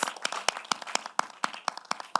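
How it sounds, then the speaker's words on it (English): Scattered hand claps ring out at a children's competition, a small group clapping in an uneven, loosely spaced rhythm, moderately loud and with no talking. "A big round of applause."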